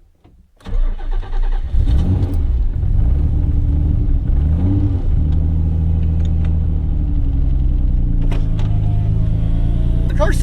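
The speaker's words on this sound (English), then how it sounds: "The car starts up very well, and it doesn't take long for it to sit there and hold an idle" A Nissan 300ZX sports car engine with a full build cranks and catches, revs briefly, then settles into a steady, loud, rumbling idle close by.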